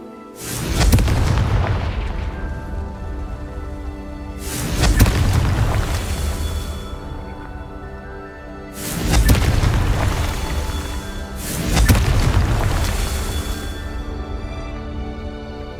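Four heavy booming blasts from the Confringo fire spell in the video game Hogwarts Legacy, evenly spaced, each with a long rumbling tail that fades before the next.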